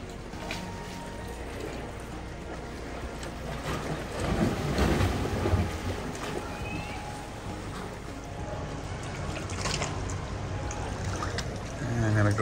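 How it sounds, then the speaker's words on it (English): Sea water surges through limestone beach caves at Phra Nang Cave Beach in Railay, Krabi, Thailand, a continuous low roaring wash with swelling rushes and wind, fairly faint and unbroken throughout. "The water goes through these caves, makes this incredible noise."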